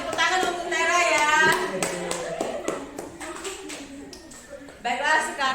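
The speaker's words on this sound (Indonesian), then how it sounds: "tepuk tangan untuk Tera ya" A primary school class claps for a classmate, giving a short round of sharp, quick claps up close. A teacher's voice talks over and between the clapping.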